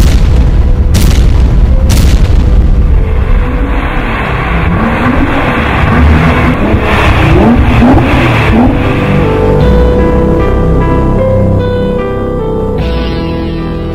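Nissan GT-R Nismo engine roars loud and close with repeated hard revs and sharp bangs, rising and falling in pitch as it accelerates.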